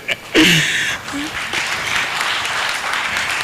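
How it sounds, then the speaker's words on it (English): Audience at a symposium on technology, security and development bursts into applause after a voice briefly speaks, the clapping staying fairly loud and steady to the end. "Another round of applause for Dr. Kwapata."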